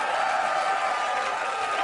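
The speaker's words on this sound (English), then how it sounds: "Please let your applause die away quite..." Studio audience at a late-night talk show applauding, a dense continuous wash of clapping that holds steady through the moment with a voice faintly over it.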